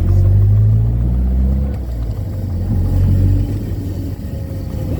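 A topless 1970 Datsun Roadster SPL311 rumbles along on a test drive, its engine a steady low drone heard from the car with some wind noise, easing off slightly and then building again.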